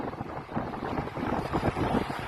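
Wind rushing past a cyclist riding outdoors in summer, gusty buffeting noise against the microphone, brief and fairly faint.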